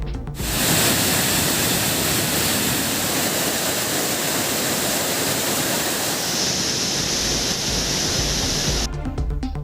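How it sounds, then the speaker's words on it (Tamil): The Hogenakkal waterfall on the Cauvery river pours with heavy flow, making a loud, steady roar of rushing water close by that cuts off abruptly at the end. "ஆர்ப்பரித்து கொட்டும் அருவியில் சுற்றுலா பயணிகள் உற்சாகமாக குளித்து மகிழ்ந்தனர்"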